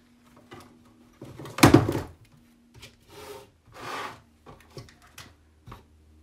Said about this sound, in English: I'm just going to rub a little bit of the natural wax on it